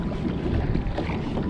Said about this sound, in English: it's getting bloody windy now